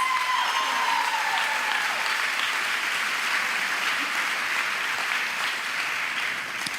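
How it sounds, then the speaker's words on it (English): A pageant audience applauds loudly and continuously, a dense wash of many hands clapping that holds steady throughout with a faint tone fading early on. "Let's give all the ladies one more huge round of applause."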